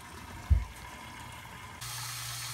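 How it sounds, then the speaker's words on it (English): Water runs steadily from a bathroom lavatory sink tap drawing hot water. A soft thump comes first, then the flow grows into a louder, even rushing. "This is the lavatory sink that's running."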